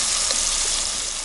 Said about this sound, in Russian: придется лук параллельно тут обжарить на сковородочке